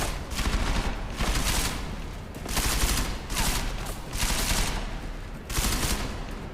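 Gunfire in Deus Ex: Mankind Divided, loud repeated bursts of rapid shots in roughly regular volleys separated by brief gaps, close and continuous.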